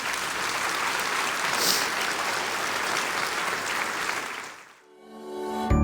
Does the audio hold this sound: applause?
yes